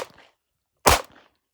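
A single sharp handgun shot fired at targets during training, one loud, close crack with a short tail, between faint handling noises.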